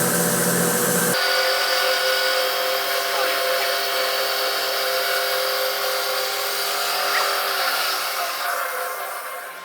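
A custom electric bandsaw mill slices through a black walnut log, starting with a sharp cut-in and then a steady, loud, continuous whine and rasp of the blade through wood with no talk.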